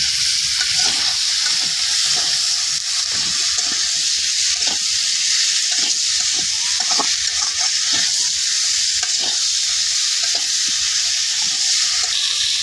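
Spice paste of onion, ginger, cumin and turmeric with fish powder sautéing in a pan, a steady loud sizzle broken by repeated scraping stirs throughout, with no talking.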